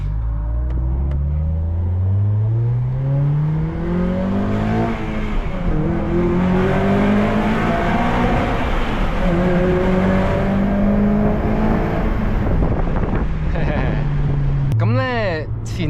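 A 2006 Acura TSX with a manual gearbox and a naturally aspirated engine revs hard while driving, rising repeatedly through the gears toward a 7500 rpm redline, loud and continuous from inside the cabin with some talk over it.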